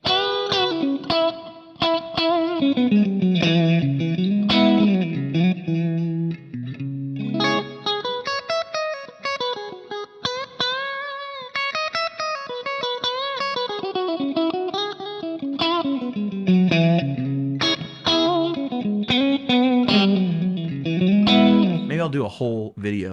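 An electric guitar plays sustained chords and melodic lines through a Kemper hall reverb, with a spacious, washy tail that fills the gaps between notes; the playing is steady and loud, and no voice is heard.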